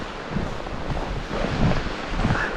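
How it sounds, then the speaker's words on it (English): Gusty wind buffets the microphone on a snowy hiking trail during a snowstorm, a steady close roar that swells and eases over the short stretch. "The wind is just swirling."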